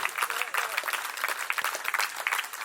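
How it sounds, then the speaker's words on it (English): An audience at a memorial gathering applauding, a dense, lively patter of clapping from a crowd, with some voices mixed in beneath it. "I'm sure you'll join me in making a special round of applause for our amazing mother,"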